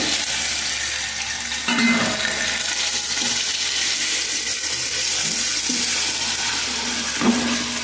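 Steady frying hiss of tomatoes and coriander cooking in a pan, a continuous close sizzle with a few faint scraping touches from stirring.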